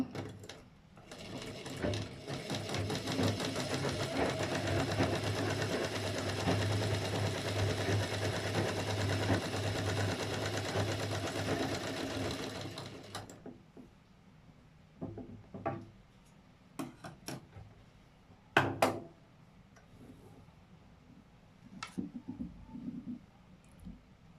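A sewing machine runs steadily through a straight-line stitch for about thirteen seconds during a tailoring lesson, then stops, leaving quiet with a few scattered clicks and small handling knocks.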